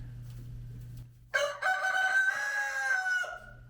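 A rooster crows indoors in a house, one loud, long near crow that starts suddenly after a low steady hum and holds for about two seconds.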